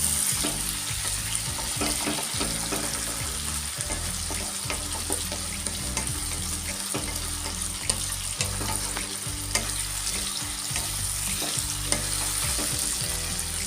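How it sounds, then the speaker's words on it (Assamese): Tomatoes fry steadily in a hot pan, a continuous sizzle broken by frequent scraping and stirring clatter, close and moderately loud. "বিলাহীটো চফ্ট হোৱালৈকে মই এইখিনি ভাজি লওঁ।"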